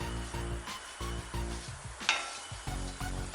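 Grated coconut is dry roasted in a pan with no oil, heard as a soft, close sizzle broken by repeated scraping strokes of a spatula stirring against the metal.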